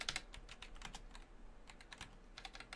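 Quick, uneven keystrokes on a computer keyboard patter softly in short bursts, faint and close, with no talk over them.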